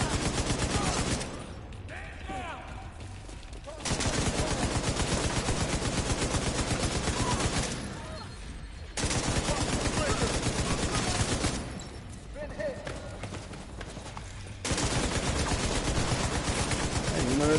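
Automatic gunfire from the video game Division 2, loud sustained bursts of rapid shots that stop and restart in several long volleys, with brief quieter gaps between them.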